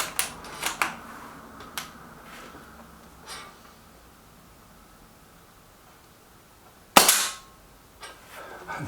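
A single sharp, loud report from a Walther Rotex RM8 air rifle at a target shoot, with a brief ringing tail and some faint clicks and handling noise before it.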